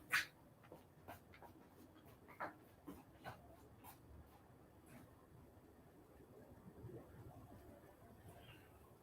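A dog whimpers and pants softly at a distance, with scattered faint whines and light clicks over a quiet room background.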